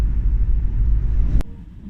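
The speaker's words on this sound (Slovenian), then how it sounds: "tudi nasplošno je tale zvok trivaljnika ful dobro zadušen" A Škoda Fabia three-cylinder car engine hums steadily at low pitch while driving, well muffled and even, with a click near the end after which the drone drops away and quiets.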